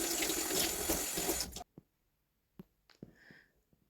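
Tap water runs loud and steady from a faucet into a sink during handwashing, cutting off abruptly partway through, then a few faint knocks and small splashes follow in a quiet kitchen.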